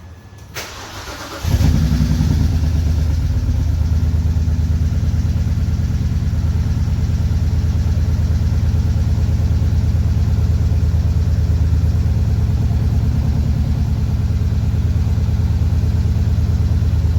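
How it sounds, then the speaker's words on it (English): A 2007 BMW 328i engine cranks and catches after a quiet moment, then settles into a steady, close, loud idle that runs evenly for the rest of the clip. "This is the car running"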